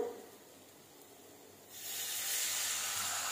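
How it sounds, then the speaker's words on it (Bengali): A splash of water hitting frying spices in a hot pan partway through, bursting into a loud, steady steam hiss that carries on to the end after a quieter stretch. "যাতে মশলা না পুড়ে যায়, এই জন্য দিয়ে দিলাম সামান্য জল।"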